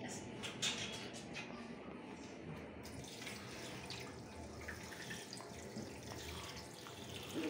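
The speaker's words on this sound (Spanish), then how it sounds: "Lo que vamos a hacer es lavar bien las costillas." Tap water runs steadily into a sink while pork ribs are washed with vinegar in a kitchen, a soft, continuous rushing with faint splashes and handling noises.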